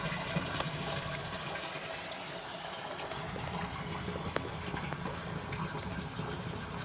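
Rainwater flowing into a French drain system in Washington Township, Michigan, a faint, continuous wash of running water with a soft steady hiss and no speech.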